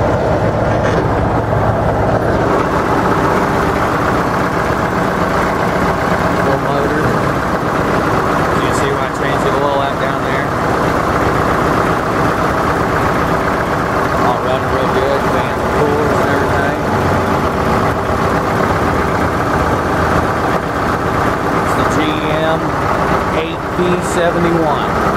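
The rear engine of a 1964 GM PD 4106 bus idles loudly and steadily, a constant low rumble that carries under someone talking nearby.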